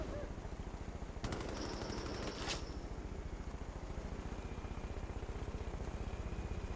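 Heavy gunfire in Far Cry 5 during a co-op airborne mission: sustained rapid machine-gun bursts as a continuous rattling stream over engine drone, with a sharp loud crack near the start.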